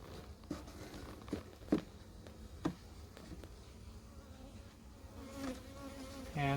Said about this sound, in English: maybe a dozen bees on this one